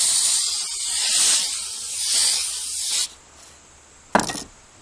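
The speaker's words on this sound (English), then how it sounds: "And giving the back a coat of the triple thick clear glaze." Triple thick clear glaze sprays onto the back of a painted flatware plate in a long steady close hiss lasting about three seconds, followed by quiet and then a short sharp burst from the spray can.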